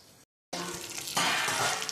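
Stuffed brinjal curry frying in oil gets stirred in a pan, a close steady sizzle with scraping that swells louder partway through after a brief silent gap.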